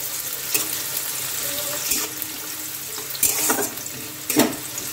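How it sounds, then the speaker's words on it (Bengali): Chopped onions fry in a pan until brown, giving a steady sizzle broken by a few louder scrapes and splashes from stirring, close by and with no talk. "পেঁয়াজটাকে ব্রাউন ব্রাউন করে ভেজে নেব।"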